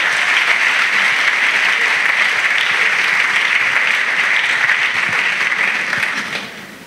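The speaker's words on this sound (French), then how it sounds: "Clap for Jesus." Church congregation clapping in sustained, dense applause, loud and continuous for several seconds before easing off at the end.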